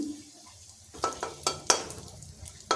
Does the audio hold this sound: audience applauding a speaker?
no